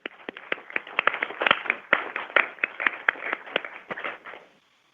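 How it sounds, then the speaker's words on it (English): An audience in a room applauds for John Sauerland, a few seconds of steady clapping from many hands that stops abruptly. "give John Sauerland a round of applause"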